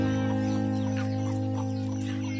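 Backyard village chickens cluck softly in the morning around a cherry tree, their scattered calls faint over a steady low hum of background noise.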